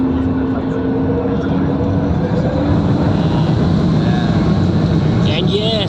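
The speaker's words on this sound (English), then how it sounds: "you can hear the engine ramping up." Akasa Boeing 737 MAX 8 engines spooling up for takeoff at Bengaluru airport, a steady broad cabin roar with rising whining tones toward the end, heard from inside the aircraft.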